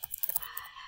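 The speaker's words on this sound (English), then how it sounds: "So I'll just type in the URL here," Quick, light keystrokes on a computer keyboard while a web address is typed, a brief soft burst of clicking taps.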